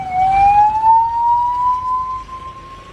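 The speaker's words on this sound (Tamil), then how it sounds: "பாருங்க ஆம்புலன்ஸ் இப்பதான் போகுது." An ambulance siren passes along a road, a loud steady tone slowly rising in pitch over three seconds with traffic rumble underneath.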